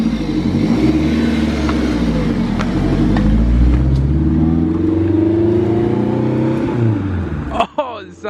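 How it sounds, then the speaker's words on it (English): A turbocharged Honda K20A2 engine swapped into a CRX revs with a deep, throaty rumble that swells and shifts in pitch, loud and close, with voices talking over it. "Oh, that K-Series rumble."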